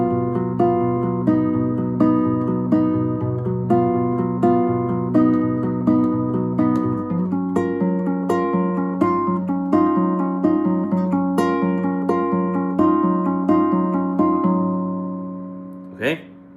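Guitar strums the intro chords of a song, steady rhythmic chords across eight bars with no voice, ending in a single soft knock.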